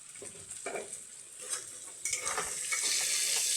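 Potatoes sizzle in a frying pan after a pinch of turmeric goes in, with steady frying hiss and occasional stirring scrapes that grow louder and denser toward the end.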